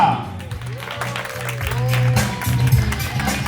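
Applause from guests at an Armenian wedding reception for the best man and bridesmaid, a sustained wash of clapping over background music, with a voice talking over it.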